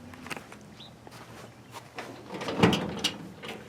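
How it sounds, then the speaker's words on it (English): The door of a 1960-66 Chevy C10 pickup swings against its door check retainer stop, giving a few soft knocks and a firmer clunk near the end, fairly close and quiet. "Door's coming back pretty good."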